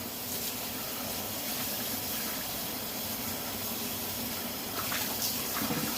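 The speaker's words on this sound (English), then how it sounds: "So let me rinse these and I'll show you what I use." Water runs steadily from a kitchen tap while dishes are rinsed in the sink, a continuous soft gushing with faint clinks near the end.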